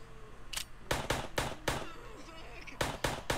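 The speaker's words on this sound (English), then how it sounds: "Keep shooting at him, eventually they'll die." Rapid bursts of gunfire from a zombie survival mode in VRChat, several sharp shots in quick clusters, fairly faint and close, with voices faintly present.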